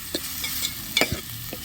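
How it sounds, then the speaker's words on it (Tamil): Onion, curry leaves and coriander sautéing in a pan with a steady close sizzle, broken by a few quick stirring scrapes and clinks, no talking. "தேவையான அளவு வெங்காயம், கருவேப்பிலை, கொத்தமல்லி எல்லாத்தையும் லைட்டாக ஒன்றா வதக்கிக்கலாம்"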